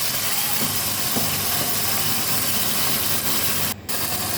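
Goat meat sizzling in a pan as salt is added and the pieces are stirred, giving a steady, close hiss of frying with a few faint scrapes and a brief dip near the end.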